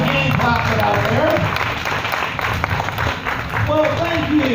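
Crowd at a state fair show applauding steadily, a broad wash of clapping with voices mixed in throughout.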